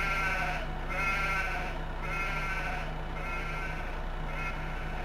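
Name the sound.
sheep and lambs bleating in video game Farming Simulator 15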